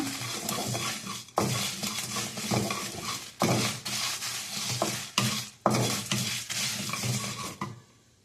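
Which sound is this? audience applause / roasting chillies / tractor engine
roasting chillies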